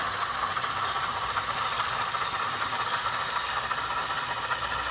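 A steady, close steam hiss from an HO-scale model locomotive sound decoder, with a faint mechanical rattle underneath, continuous and even throughout.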